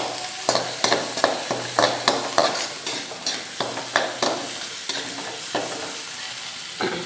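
Onions and tomato sauté in a pan for a Kerala-style pork pepper fry, with a steady background sizzle and a series of clattering stirs and scrapes of a spoon against the pan, close by and without talk.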